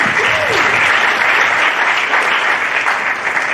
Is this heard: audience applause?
yes